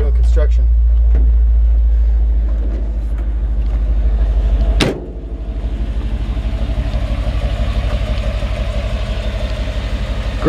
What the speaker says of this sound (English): Nice smooth running 350 V8.